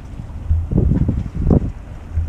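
A steady 20-knot wind at sea near Porto-Vecchio, Corsica, aboard the sailing ship Royal Clipper, buffets the microphone in loud, low gusty rumbles.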